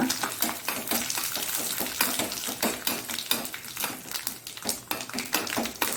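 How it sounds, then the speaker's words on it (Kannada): Dried red chilies being stirred in a metal pan for a Mangalore temple-style thili saaru, with dense, rapid clinks and scraping of a ladle against the pan continuing throughout, close and fairly loud. "ಇನ್ನು ಒಣಮೆಣಸು ಹಾಕ್ಕೊಂಡು ಸ್ವಲ್ಪ ತಿರುಗಿಸೋಣ"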